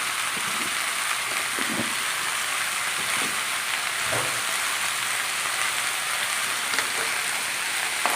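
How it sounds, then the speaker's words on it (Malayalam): Okra curry sautéing in a pan with salt, giving a steady, even hiss and sizzle that holds at a constant level with a few faint clinks. "ഈ നമ്മുടെ വെണ്ടയ്ക്ക ഒന്ന് വഴന്ന് വരണം"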